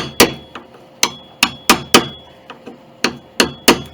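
Hammer blows drive wooden shims into the soundboard of an 1881 Steinway Model A grand piano during a recrown, about ten sharp, close, ringing strikes in an uneven rhythm, with no talking.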